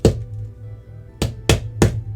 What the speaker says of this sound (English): I need like a small tap hammer.